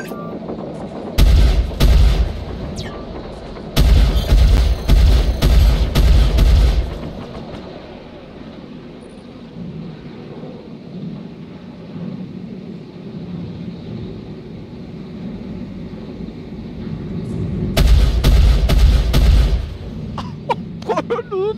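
Bursts of heavy gunfire and booming explosions in the space combat game Star Citizen, loud dense volleys near the start, a lull of rumbling background, then another intense barrage toward the end.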